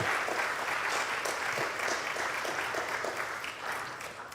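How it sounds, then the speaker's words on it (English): Congregation audience at a church town hall claps in sustained, dense applause that holds steady and fades slightly toward the end, with no talk over it. "A round of applause."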